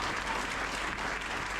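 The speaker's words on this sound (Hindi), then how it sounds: "पहले तो उनके लिए तालियां होनी चाहिए" A crowd at a coaching-class gathering in Ara claps steadily, a dense continuous burst of applause with no voices over it.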